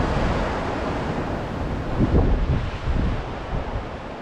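Sea swell and waves roll in on the shore at Porthcawl, a continuous roaring wash with a slight surge midway, heavily buffeted by wind rumble on the microphone.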